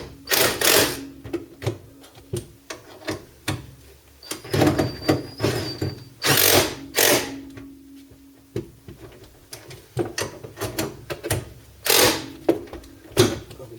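Power tool run in short bursts to tighten bolts on a VW T3/T25 bus top front ball joint, a series of sharp whirring and rattling bursts close by, separated by pauses, with no talk over them.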